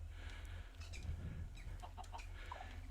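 Chickens in Minecraft make a few faint, soft clucks over a low steady hum, with no speech.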